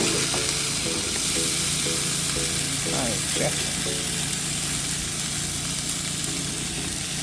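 Masala dosa crisps in oil and butter on a pan during a camp-cooking morning, a steady close sizzle and hiss running throughout under a constant low hum.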